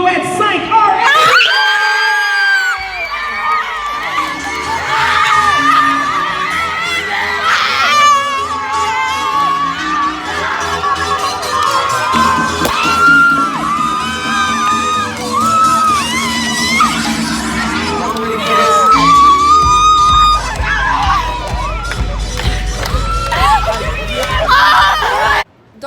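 A crowd at a competition event screams and cheers with joy, excited yells and shrieks over dense babble, while someone talks over the noise throughout.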